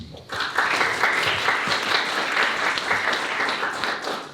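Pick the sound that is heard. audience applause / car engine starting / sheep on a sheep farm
audience applause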